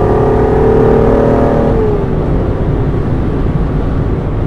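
An Aston Martin with automatic Tiptronic Sport transmission accelerates out of a corner, with a loud, steady engine drone and a tonal whine that rises and then falls as it shifts, heard from inside the cabin.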